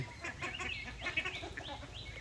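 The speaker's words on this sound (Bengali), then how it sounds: "আমি একটা ছোটোখাটো হাঁসের খামার থেকে বলছি" Poultry calls at a small duck farm: faint, overlapping quacks and clucks from several birds at a distance, no talking.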